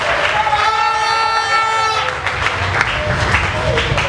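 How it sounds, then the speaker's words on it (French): Church congregation cheering and applauding for the Lord during a worship service, a loud sustained mass of clapping and raised voices with a high held cry early on, continuing under speech. "Est-ce que tu peux encore acclamer pour le Seigneur?"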